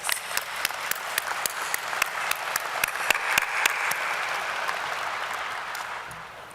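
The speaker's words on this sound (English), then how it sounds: "So if we could just give a round of applause." Graduating crowd at a commencement ceremony breaking into sustained applause, dense clapping with a few sharp distinct claps standing out, steady and full before gradually thinning out.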